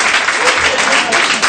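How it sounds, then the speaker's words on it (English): Loud, close crowd applause at a comedy magic show rewards a volunteer, continuous dense clapping throughout with a bright, full wash of hands. "big round of applause for Jimmy"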